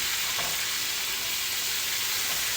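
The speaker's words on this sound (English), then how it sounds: "I sear my steaks in pork fat" Steaks searing in hot bacon grease give off a dense, even hiss that stays steady and close throughout, with no talking.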